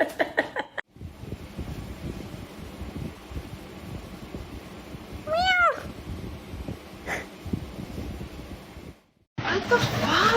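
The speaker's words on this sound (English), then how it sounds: "meows are so cute, and I finally got a video of it." A cat gives one short rising meow near the microphone midway, set against steady wind-like background noise, with a few other faint sounds around it.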